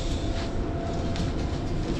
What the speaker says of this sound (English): let's get off the train.